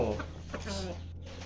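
A Burmese-style fighting rooster gives a few soft, low clucks, faint and close, over a steady low background hum.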